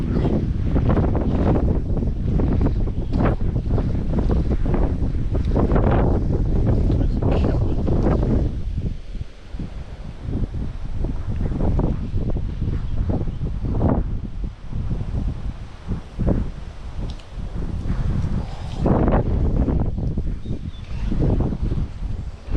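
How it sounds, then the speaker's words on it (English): Strong gusting wind buffets the microphone beside a trout fishing lake, a loud continuous roar rising and falling in waves with brief lulls, no other sounds standing out. "This wind isn't fun, is it?"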